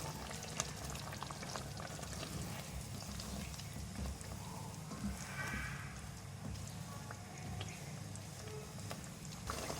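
Crushed fried brown onion being stirred into a simmering chicken shahi korma gives a steady, soft frying hiss with faint scraping, close and unbroken for about ten seconds.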